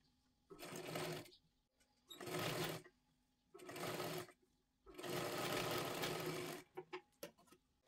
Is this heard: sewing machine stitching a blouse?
yes